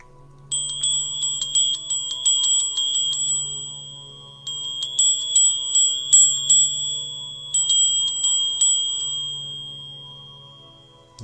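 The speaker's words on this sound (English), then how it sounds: "We're going to clear the energy with a bell." A bell rung to clear the energy before a guided meditation, struck three times with bright sustained tones that ring out and slowly fade, alone in a quiet room.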